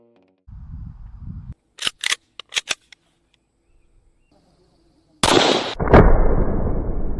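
A double-action revolver firing, several sharp close shots in quick pairs and singles separated by silence, followed by a longer loud burst of noise near the end.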